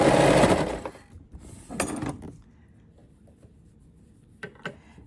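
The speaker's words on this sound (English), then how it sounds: "Serging these gathers in" A serger overlocks gathered fabric on a flutter sleeve dress with a brief loud whirring burst, followed by quieter handling clicks and a couple of soft taps.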